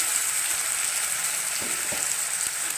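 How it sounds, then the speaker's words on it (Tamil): Ginger, garlic, onion and tomato sauté in a pan for a cauliflower gravy, giving a steady hissing sizzle close up with a few soft knocks from stirring, and no voices. "இப்போ இந்த வெங்காயம் தக்காளி நல்லா வதங்கட்டும்"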